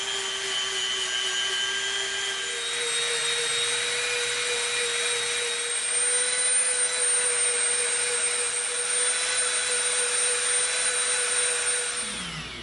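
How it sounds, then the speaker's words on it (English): A Dremel rotary tool bevels EVA foam in one steady high-pitched whine lasting several seconds, close and continuous, and it winds down at the end. "We're going to Dremel a bevel on both ends of this piece"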